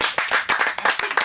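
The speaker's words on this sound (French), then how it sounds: "on peut l'applaudir" An audience applauds during a French entertainment interview, hands clapping in a dense, rhythmic burst that stays loud and close throughout.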